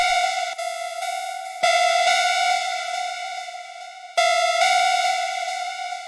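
Buzzy detuned techno synth with drum bus processing, a bright sustained tone with sharp restrikes that swells louder on each new hit, heard alone without voices.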